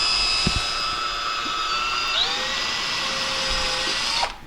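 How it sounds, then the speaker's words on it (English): A power drill bores a pilot hole into white oak, whining steadily at a high pitch for several seconds. The pitch drops briefly as the bit bites, and the drill then spins down at the end. "So I drill a pilot hole for it to start with."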